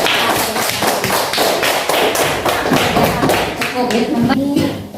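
A class claps hands together for a student group, producing close, rhythmic and somewhat uneven slaps with thuddy taps, as voices murmur and speak underneath the clapping.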